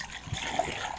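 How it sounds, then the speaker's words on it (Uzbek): Snow-fed mountain water spills from an artificial waterfall into a swimming pool, making a steady, moderately loud splashing rush that continues unbroken with no voices. "Chiroyli shunaqa sharshara qilib qo'yishgan ekan."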